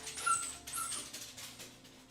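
An overly excited dog whimpers and whines in a short run of high, thin yelps, close and fairly quiet, rising and falling several times with no talking.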